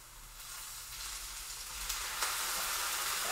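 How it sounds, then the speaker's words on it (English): Chicken and onions fry in a pan with a loud, close, continuous sizzle that swells slightly as the cooking goes on, with a few brief spatters and no talking. "Sizzling."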